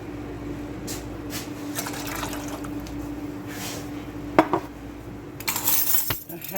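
Soft clinks and drips lead into a brief splashing pour of water into a pot of vinegar brine near the end.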